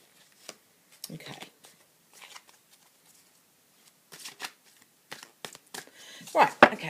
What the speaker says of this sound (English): so that's shuffled those up